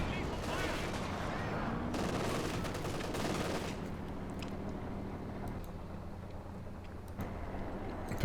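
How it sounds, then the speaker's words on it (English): Howitzer artillery fire and battle noise in the Company of Heroes 2 strategy game, heavy booming blasts and rattling gunfire in the first half, easing into a quieter rumble with scattered distant shots. "There is the howitzer."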